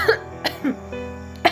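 A woman gives several short, close coughs, about four separate bursts spaced unevenly over a quiet background in a radio drama scene.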